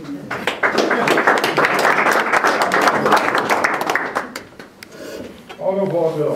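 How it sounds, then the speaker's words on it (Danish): Members at a neighbourhood association's annual general meeting break into dense, sustained applause that fills the room for about four seconds, then thins out and fades as a voice begins speaking. "Skal vi klappe over det også?"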